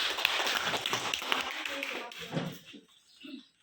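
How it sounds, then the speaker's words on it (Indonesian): An audience at a teachers' training event claps for a presenter, with dense applause for about two seconds before it thins out to a few scattered claps and falls quiet. "Bapak Ibu, mari kita kasih aplaus untuk Ibu Salma."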